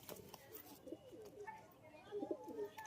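Kharan pigeon, a standing breed, cooing in soft low repeated calls close by, with faint chirps and background murmur around it.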